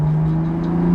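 Close engine note inside a Long Beach Blue BMW F87 M2 with a manual gearbox, a steady loud hum that rises slightly in pitch as the engine is rev matched, with no speech.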